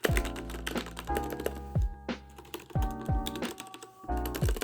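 Linear mechanical keyboard keys clack in quick irregular bursts, close and fairly loud, over a steady backdrop of music.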